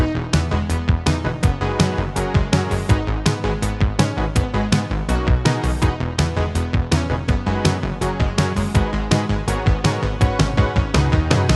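A dense synthwave track with punchy drums, pulsing synth bass and bright layered synths drives along at a steady tempo, with no voices.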